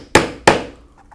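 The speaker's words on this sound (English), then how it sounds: "And then we can punch our holes" A 1/8 inch hole punch is struck twice through a leather holster, two sharp close knocks about a third of a second apart, each fading quickly, followed by faint ticks.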